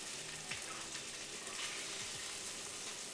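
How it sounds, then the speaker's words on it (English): Food sizzles steadily in a frying pan over medium heat, a dense, even crackle with a few faint utensil scrapes and no talking over it. "You guys hear that sizzle though?"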